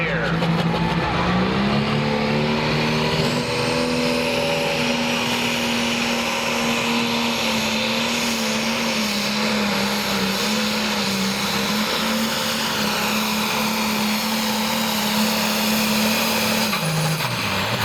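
A John Deere pulling tractor roars at full power during a tractor pull, its loud, steady engine drone running the whole way and dropping in pitch near the end, with an announcer talking over it.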